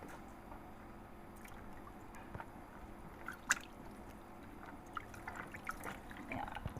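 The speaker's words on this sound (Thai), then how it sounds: "เทน้ำออกก่อนนะคะ" Water poured off squid being prepared for sale: faint, close splashing and dripping with a few squishy wet knocks scattered across several seconds in a quiet room.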